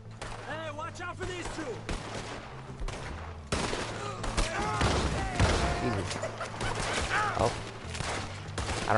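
Gunfire rings out in Red Dead Redemption 2 during a fight on a cliff, as a steady run of shots under continuous background sound and faint speech.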